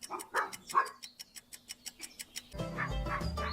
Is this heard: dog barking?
yes